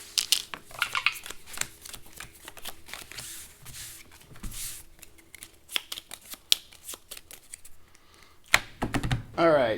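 Cards are shuffled during a tabletop Battletech Alpha Strike miniatures game, giving rapid riffling and snapping bursts with a louder riffle near the end, close up amid light table noise and brief speech.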